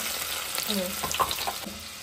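Cumin, fresh curry leaves and garlic frying in hot oil: a crackling sizzle with scattered pops and spatters, moderately close.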